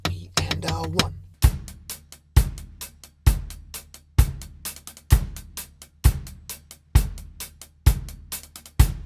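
A drum groove with hi-hats and a bursts of four rapid 32nd-note hi-hat strokes landing on beat four, each bar anchored by a punchy kick and snare, repeating steadily and close; a brief burst of counting voice opens it.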